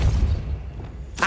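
A Depulso spell is cast in Hogwarts Legacy: a short, deep whooshing thump that rumbles low for about a second, then ends in a brief bright burst.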